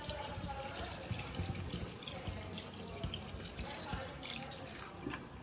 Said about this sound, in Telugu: ముక్కలన్నీ మూలిగేదాకా వాటర్ పోసుకుందామండి.